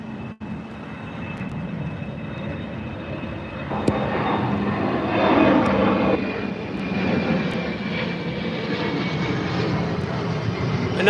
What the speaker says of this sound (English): Another American flight taking off.